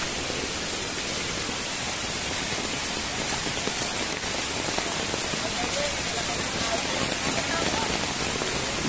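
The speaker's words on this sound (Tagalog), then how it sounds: "Oh, maulan kasi." Steady rain falling outdoors near a shallow stream crossing, a dense even hiss of drops on surfaces that stays constant throughout.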